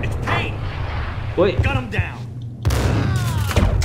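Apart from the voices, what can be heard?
gunshot in a video game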